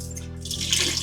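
Water runs steadily from a tap in a campsite shower room near a parking area, a close continuous hiss that swells slightly toward the end.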